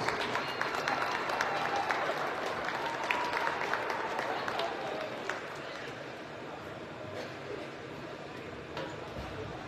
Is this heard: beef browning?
no